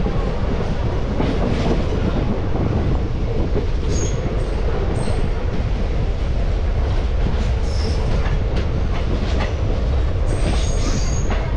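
A local train runs toward Samsi station, a loud steady rumble of wheels on rails with faint squeals rising now and then, close and continuous.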